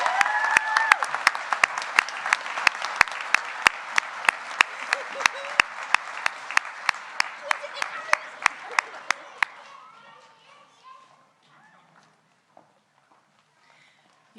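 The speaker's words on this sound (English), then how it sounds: "One more round of applause for our FNP graduates." An audience applauds nursing graduates at a hooding ceremony, a dense, steady round of clapping with a few sharp individual claps standing out. After about nine seconds it dies away into quiet room murmur.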